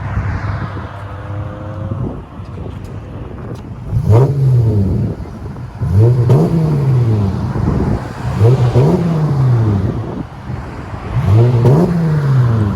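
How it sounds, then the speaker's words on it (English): Dodge Challenger 3.6L V6 with a rear muffler delete exhaust, revved repeatedly in short rising and falling bursts, loud and close, with the engine idling between pulls. "It's just a rear muffler delete, guys."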